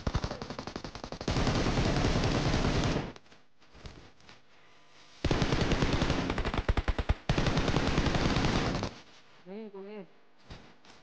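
Rapid bursts of automatic gunfire from the PUBG Mobile battle royale game come in long sustained volleys separated by short gaps, with a brief warbling tone near the end.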